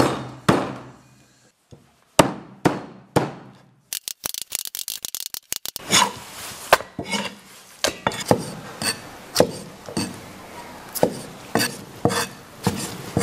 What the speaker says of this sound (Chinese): 现在我们就把这个竹鼠给剁好